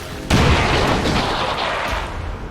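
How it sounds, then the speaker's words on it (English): A grenade detonates in XCOM 2, a sudden loud boom after a brief quiet moment, followed by a rumbling, slowly fading roar of debris for a couple of seconds. "Grenade out."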